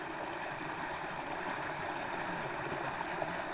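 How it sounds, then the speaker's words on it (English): A small waterfall on a river gives off a faint, steady rush of falling water, continuous and somewhat distant. "A little bit of a waterfall behind them trees"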